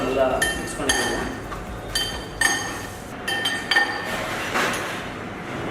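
Sautéed vegetables, cooked in butter, are tossed with an olive oil dressing in a bowl, giving repeated light clinks and taps of a utensil against the dish at an uneven rhythm, with a voice faintly present at times.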